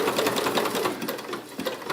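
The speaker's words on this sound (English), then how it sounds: "then it begins stitching a smaller zigzag stitch back up the right side" A sewing machine stitching a one-step buttonhole in zigzag, a steady rapid mechanical chatter that runs close and loud without a break.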